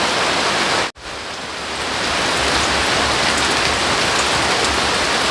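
Heavy rain pours down steadily, a dense, loud broadband hiss that briefly cuts out near the start before returning at full strength and continuing unbroken.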